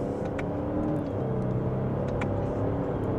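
A Lexus LX700h in Sport S Plus, second gear, accelerates gently with a steady, muffled engine and road drone inside the cabin, holding a smooth, even level with faint ticks above it.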